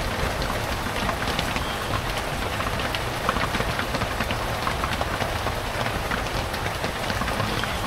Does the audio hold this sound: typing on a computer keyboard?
no